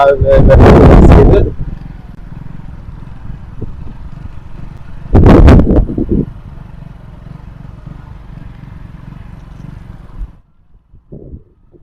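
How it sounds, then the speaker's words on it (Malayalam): Motorcycle engine revved hard from half clutch during a bike driving test, two loud bursts of revving a few seconds apart, with a steady idle rumble between them that cuts off near the end. "വണ്ടി ഒന്ന് റേസ് ആക്കി ക്ലച്ചിൽ നിന്ന്"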